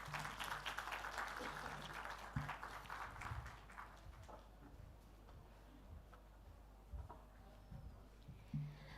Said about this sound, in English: A big round of applause for our distinguished keynote speaker.